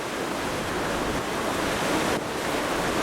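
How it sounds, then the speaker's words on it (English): Strong wind roars across the rear deck of a cruise ship heading for Cape Horn, with good-sized ocean swells surging beneath it. The rush is loud and steady and runs without a break through the whole stretch. "I'm outside on the rear of the deck. There's blue sky in the air, but a terrific wind, good sized swells."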